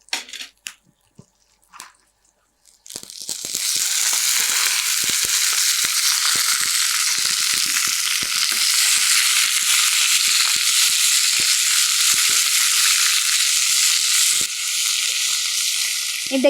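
Spinach sautés in a pan with garlic and ginger, opening with a few quiet clinks and stirs before a loud, dense, steady sizzle takes over and holds close up for the rest of the stretch.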